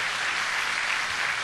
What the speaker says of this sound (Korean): 박수로 한번 행합시다